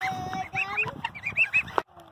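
Farm geese honk and call in a lively, close cluster of repeated cries, with a brief sharp knock near the end before things quiet down.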